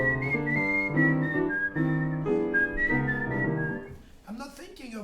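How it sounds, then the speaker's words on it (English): Clear melodic whistling rides over piano chords played at the same time by a jazz musician at home, close and steady for about four seconds before trailing off into a brief unsettled vocal sound. "when I'm whistling and playing the piano at the same time"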